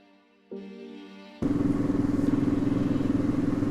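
A motorcycle in India starts up and settles into a loud, steady idle close by, its engine throbbing in an even rapid pulse after a brief lower cranking hum, with no talk.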